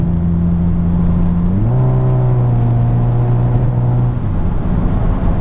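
Saab car accelerating to about 85 mph, heard from inside as a steady engine drone that steps up in pitch and continues with road rumble and whir, no voices.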